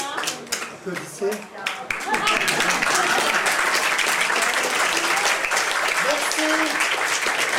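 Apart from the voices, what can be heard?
audience applause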